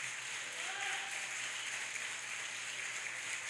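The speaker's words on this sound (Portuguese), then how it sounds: "aplaude ao Senhor com alegria" Congregation applause at an evening church service, a soft, steady wash of clapping that stays even and fairly distant throughout, with no voices standing out.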